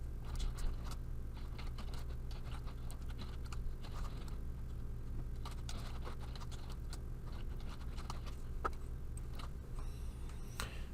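Fingers type on a computer keyboard in quick, irregular bursts of soft clicks, quiet and near, with no voices.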